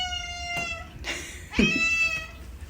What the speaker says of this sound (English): guess the meow of a cat that is quite close to us. Here is that meow.